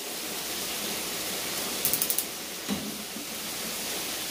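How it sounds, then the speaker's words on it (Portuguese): Heavy rain pours steadily as a broadband hiss, with a brief cluster of faint clicks partway through and no talking. "Tá chovendo muito, gente. Muito mesmo."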